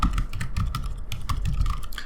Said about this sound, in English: Let's type in PHP Artisan make controller.